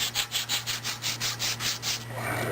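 Fine sandpaper rubs back and forth along the shafts of a Husqvarna 600 CRT tiller in about ten even, rhythmic close strokes, then gives way to a softer steady hiss.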